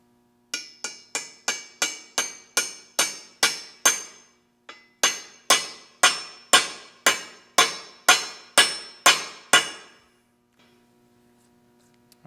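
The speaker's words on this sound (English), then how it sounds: "So let's just tap these in." A hammer taps steel press-fit pins into a homemade follow rest for a Lion lathe during restoration: about twenty sharp, ringing metallic strikes in steady rhythm, two runs separated by a short pause, close and loud with no talking.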